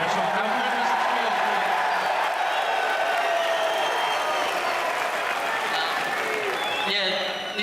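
A Perth crowd at a UFC press conference roars with loud, sustained applause and cheering that fills the whole stretch, dense and continuous before easing slightly at the end.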